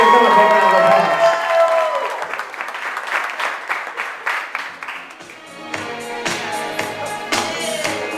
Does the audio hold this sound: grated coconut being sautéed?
no